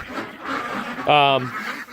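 A single loud, nasal duck quack breaks in at close range on a farm, amid faint background chatter and rustling.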